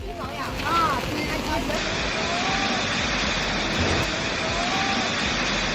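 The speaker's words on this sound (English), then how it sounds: "Footage from inside a vehicle shows how the force of the wind and water caused violent movements, rocking vehicles from side to side." Typhoon Faxai's wind and heavy rain batter a vehicle in Miyagi, Japan, a continuous broadband rush and roar heard from inside, with a few faint tonal whines passing through.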